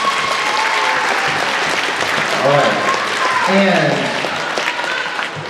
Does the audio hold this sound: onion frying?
no